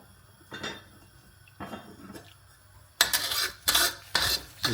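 Egg mixture with shells being scrambled in a wok for homemade dog food: a metal utensil scrapes and knocks against the pan in separate strokes, a few soft ones at first, then quicker, louder scrapes close by.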